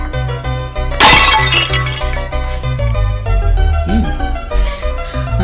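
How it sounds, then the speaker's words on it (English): A priceless antique smashes, a sharp crash of breaking glass and scattering shards bursting out loudly over a backing music bed, with a few lighter clinks afterward. "And he smashed a priceless antique."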